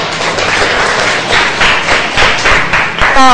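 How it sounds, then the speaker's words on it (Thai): Primary school students in a math lesson clap for themselves, a dense, steady round of close applause with thudding hand claps lasting a few seconds; a voice cuts in briefly at the end. "ปรบมือให้ตนเองค่ะ"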